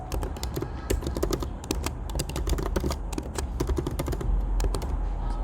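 Rapid, steady keystrokes on a computer keyboard as a project name is typed, a close, crisp run of clicks that continues without pause.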